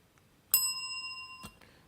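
A single bright bicycle bell is struck once during a livestream, ringing out clearly and decaying over about a second, followed by a faint soft thump.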